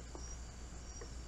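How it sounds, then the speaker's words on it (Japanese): Crickets near a mountain pond chirp faintly in two short bursts over a quiet background, distant and soft. "コオロギの鳴き声聞こえますね。"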